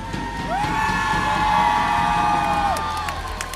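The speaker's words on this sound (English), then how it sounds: "a round of applause for our winners." Crowd at an MPL Malaysia Mobile Legends esports match cheers and whoops for the winning team, a steady, loud wall of voices with shouts and some clapping, lasting throughout.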